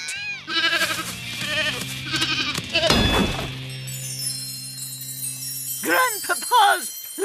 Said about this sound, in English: that's not a rat, Grandmama. It's a goat.